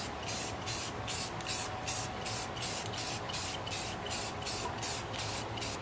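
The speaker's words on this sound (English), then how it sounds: "just kind of spray from this far away here" A spray paint can sprays model car wheels in a steady close hiss, pulsing in quick regular bursts that run through the whole stretch with no talking.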